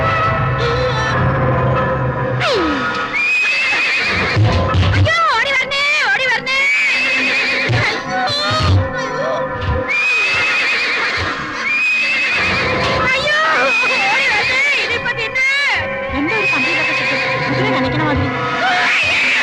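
Loud horse whinnies in a Malayalam horror film scene, several shrill, wavering neighs repeating across the scene over a dark rumbling backdrop.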